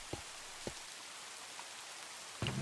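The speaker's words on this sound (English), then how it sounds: "And it started raining." Rain falling in Minecraft, a steady soft hiss of synthetic rainfall with a few faint thumps, playing alone at low level before a louder sound swells at the end.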